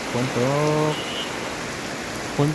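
Rain falls in a forest with a constant close hiss of drops. A voice briefly speaks over it twice.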